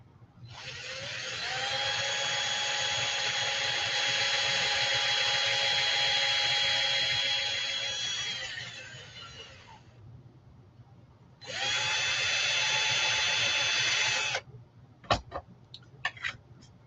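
A small high-pitched drill fitted with tiny drill bits whines steadily for several seconds, winds down, then runs again briefly, followed by a few sharp clicks.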